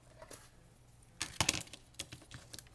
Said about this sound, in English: then you come in here with your scissors.